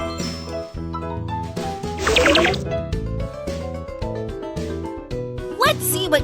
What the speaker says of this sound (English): Pour the fuel into the fireworks machine.